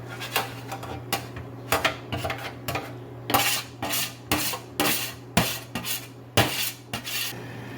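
Brown bits and drippings from a roast chicken are scraped and poured into a small pot, with a run of irregular metallic clinks and scrapes of utensil on cookware, close up over a low steady hum.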